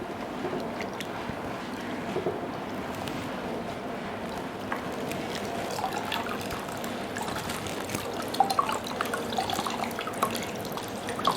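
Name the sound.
cloth bandage being soaked in cold fridge water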